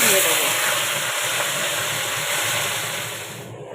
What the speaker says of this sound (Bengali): শাকটাকে ভালো করে একটু ভেজে নেব